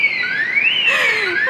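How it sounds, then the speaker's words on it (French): A car alarm wails on a street in a Tenerife town, a loud, continuous rising and falling electronic siren tone heard close by without pause. "c'est la première fois que j'entends une alarme de voiture"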